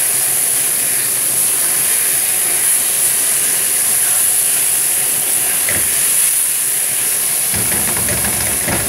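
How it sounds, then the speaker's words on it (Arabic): Sausage frying in oil with onion, pepper and garlic, giving a steady loud hiss and sizzle that runs unbroken throughout, with a brief clatter near the end. "البصلايه دي بلتها، هنزل عليها بالسجق وهنقلب بالراحه يا جماعه علشان ما يتكسرش"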